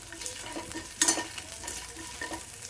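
Ginger, garlic and chili fry in a pan for mint rice, a steady close sizzle with sharp scraping stirs around the first second and near the end.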